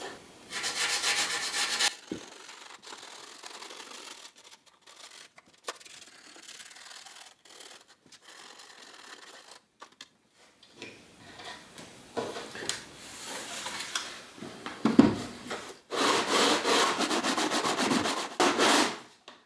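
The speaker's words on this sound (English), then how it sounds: "radius the back just to smooth out all the kerfing in that arm bevel block" Wood is sanded to radius the back of a guitar body and smooth the kerfing and arm bevel block. Long, steady rubbing strokes repeat at close range, broken by short pauses and a few louder passes near the end.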